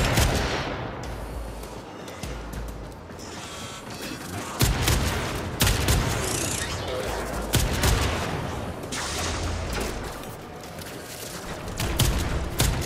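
Shotgun fire during a spy mission in Warframe: loud, heavy blasts repeat at irregular intervals, each a sharp burst over a busy, clattering backdrop of combat noise, with no talking.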